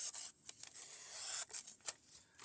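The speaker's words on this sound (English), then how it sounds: "this paper sucks to cut" A blade slices through paper in short rasping strokes, a quiet scratchy cutting sound repeated several times with brief pauses between.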